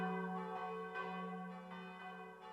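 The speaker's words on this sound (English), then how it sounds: "In the early morning, the church bells rang." Church bells ringing in the early morning, a rich sustained metallic tone with layered resonant overtones and soft repeated strikes, heard faintly at a distance with no voices.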